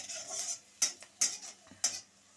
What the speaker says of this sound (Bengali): আর এখানে দেখো উস্তে ভাজা হচ্ছে, ভাজা অলরেডি হয়ে গেছে।